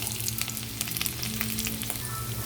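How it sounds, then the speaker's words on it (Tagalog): Onions sauté with peppered pork in a hot pan, a loud, dense crackling sizzle that runs throughout, with a low hum underneath and no speech. "O yan guys, gisado ng mabuti ang ating sibuyas."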